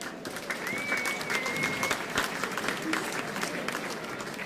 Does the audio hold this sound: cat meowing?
no